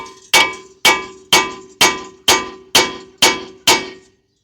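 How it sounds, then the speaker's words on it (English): Eight evenly spaced metallic clangs as a hammer strikes a rusted steel rear wheel hub on a 2019 Subaru Forester 2.5, each ringing briefly before the next blow. "We're gonna grab a hammer to get this off. And give this a whacking."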